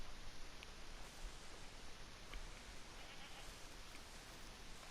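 Goats bleat faintly in Red Dead Redemption, a few soft calls buried in a steady hissing wash of ambient noise.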